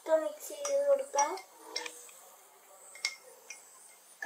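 A spoon stirs a mixture of turmeric and detergent powder in a dish, giving several light, close clinks and scrapes after a voice speaks briefly at the start.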